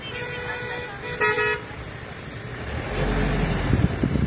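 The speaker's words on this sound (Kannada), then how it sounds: "ನಾನು ಅವ್ರಿಗೆ ಹಾರ್ನ್ ಮಾಡಿದ್ರೆ" A car horn honks in a roadside traffic scene, one short steady toot standing out over continuous engine rumble and road noise, with louder vehicle sounds building near the end.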